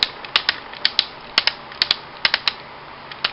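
A Combiner Wars Superion toy's ratcheting knee joint being worked, a quick series of sharp plastic clicks spaced irregularly, close up and crisp with no talking.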